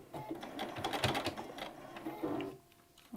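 Sewing machine back-stitching over a pleat in a fabric face mask with ties, a steady close whirring and clattering stitch burst that stops near the end.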